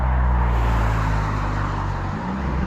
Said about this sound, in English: I'll wait till this car goes by